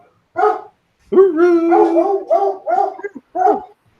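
A player at a tabletop role-playing session imitates a dog with a few close, voiced barks and a drawn-out howling bark, clearly a human voice.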